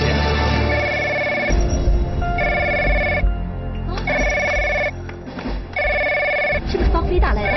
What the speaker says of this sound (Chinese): 是不是方飞打来的？